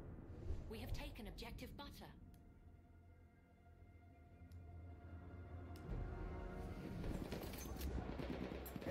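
Rapid bursts of automatic weapon fire in Battlefield 1 on Xbox One X, loud and close at first, then a lull before more shooting and battle noise return, with someone talking over parts of it.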